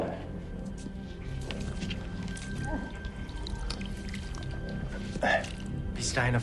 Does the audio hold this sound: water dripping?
yes